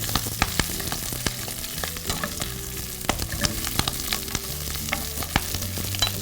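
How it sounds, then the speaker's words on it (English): Kale wilting in a pan with caramelized onions, garlic and figs, a steady sizzle with frequent clattering knocks of a utensil stirring, close and fairly loud. "we'll add a little bit of kale, which we're just going to wilt in the pan"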